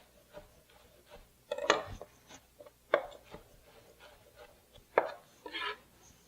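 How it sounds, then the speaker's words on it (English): A knife minces tightly packed parsley on a cutting board, a handful of sharp, irregular chops close by against a quiet background. "We're going to tightly pack it and give it a good slice. And then go back through and mince it up."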